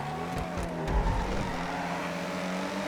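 A fast but understeering car in a FiveM street race drones past with a steady engine note whose pitch rises and falls, heard at moderate volume with a brief rougher bump partway through.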